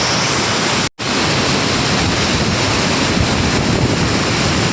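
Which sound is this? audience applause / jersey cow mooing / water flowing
water flowing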